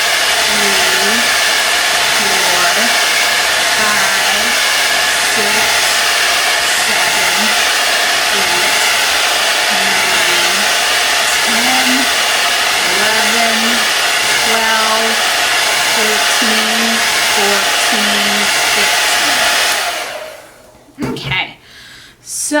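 A hair dryer blows steadily on wet paint for a planet painting, a loud, continuous whir held for about twenty seconds with faint wobbling pitch as it is circled, then cut off abruptly, followed by brief handling sounds.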